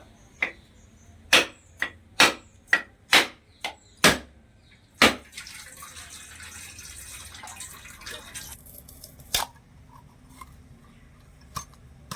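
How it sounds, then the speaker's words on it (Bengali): A coconut is struck repeatedly to crack it open: about eight sharp, hard knocks come in quick succession, then quieter handling noises follow with a few more isolated taps. "সবার প্রথমে নারকেলটা একটু ফাটিয়ে নেবো"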